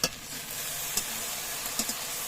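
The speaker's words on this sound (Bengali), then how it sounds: "কড়াইতে এখন ভেন্ডি ভাজা করছিলাম, ভেন্ডি ভাজা হচ্ছে" Okra (bhindi) frying in a wok, a steady close hiss and sizzle with a few brief clinks or stirring taps, no talking.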